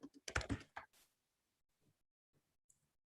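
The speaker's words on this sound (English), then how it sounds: "Type in the full name of NUS." Close keystrokes on a computer keyboard as a name is typed into a library search field, a quick cluster of clicks followed by a few sparse, fainter taps in an otherwise quiet room.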